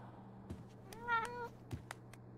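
A cat in Life is Strange: True Colors gives a single drawn-out meow, close and distinct over a quiet hum, with a few soft clicks before and after.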